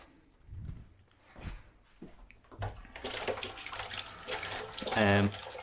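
Spring onions are rinsed under a running kitchen tap, starting with faint handling and splashes before a louder, steady stream of water with gurgling near the end.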